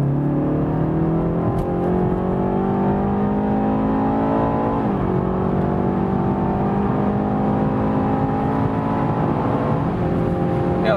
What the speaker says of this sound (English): One more acceleration when we are already at speed